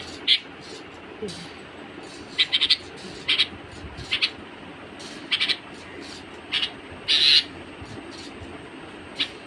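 A pet bird named Puchku calls near a window, giving short, bright, high chirps in irregular bursts, some doubled or trilled, over a quiet low background.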